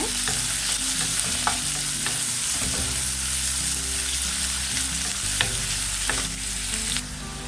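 Finely chopped large onions sautéing in a pan for brinjal fry: a dense, loud, close sizzle with a low hum running under it and sharp spatula scrapes and clacks every second or so, no voices.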